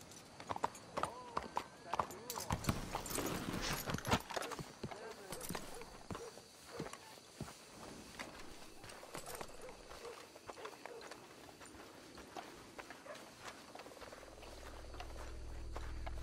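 Horses clip-clopping in Red Dead Redemption 2, a series of light hoof taps under frequent character dialogue, with ambient outdoor game sounds and a low rumble rising near the end.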